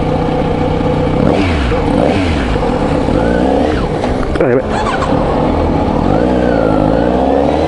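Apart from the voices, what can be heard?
Kawasaki Z900RS motorcycle engine revving with new K-Factory muffler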